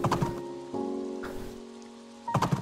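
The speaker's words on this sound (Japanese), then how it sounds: "ちょっと雨。" Steady rain falls in the farm life game Doraemon Nobita's Farm Story, a soft even hiss running beneath a sustained musical tone, with brighter chiming game sounds at the start and end.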